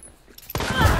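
Gunfire in the video game Hunt: Showdown: a near-silent moment broken by a sudden loud, dense burst of shots that carries to the end.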